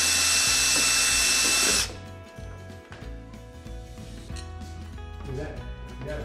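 A power drill with a big bit whirs loud and steady for about two seconds, then cuts off, leaving clattering workshop noise and faint voices working on a 1941 Chevy farm truck.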